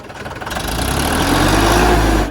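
A 4511 tractor engine at a fair, revving loudly and close, its rumbling roar rising and holding steady for a couple of seconds before cutting back.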